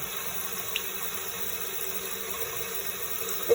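Water flows steadily into a toilet tank fitted with a Korky complete fix kit, a constant close hiss and rush with no pause, and a small knock at the very end.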